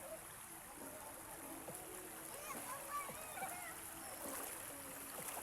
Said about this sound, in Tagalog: dito kami sa Sapa ngayon. Dahil walang pasok, ligo-ligo muna kami.